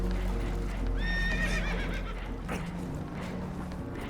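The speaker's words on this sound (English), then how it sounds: "Horses are spooked, and we're taking on water." Spooked horses whinny in Red Dead Redemption 2, one clear neigh rising and falling near the start over a low rumbling background of water and wind, with hooves and faint clatter following.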